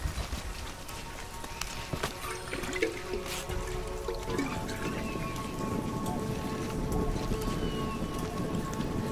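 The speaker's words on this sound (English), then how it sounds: "This rain's not natural." Steady rain falling in the video game Shadow of the Tomb Raider, a dense continuous wash of drops that grows heavier midway, with faint scattered game sounds and no speech.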